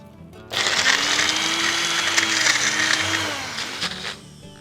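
A blender whizzes veggie pesto thinned with milk, a loud burst of motor roar starting suddenly, holding for about three seconds, then winding down with a small rattle at the end.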